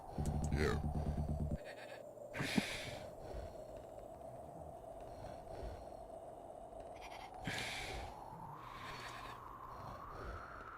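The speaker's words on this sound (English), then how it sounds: "Attack some sheep." Sheep bleating in the Amiga game Powermonger: a few short, nasal bleats stand out over a constant droning background hum, with a brief burst of other game noise at the start.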